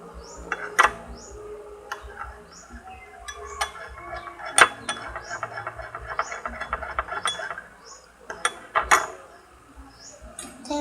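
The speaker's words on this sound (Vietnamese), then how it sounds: "Khuấy đều lên." Glue and water slime mixture being stirred in a container, producing irregular clinks, taps and scraping knocks of the utensil against the sides, close and moderately loud, with sharper isolated ticks scattered throughout.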